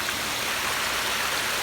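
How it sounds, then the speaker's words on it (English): A pondless backyard waterfall fed by two pumps pours steadily, a dense, even rush of falling water heard close up and alone. "Both pumps feeding into one waterfall on the bottom."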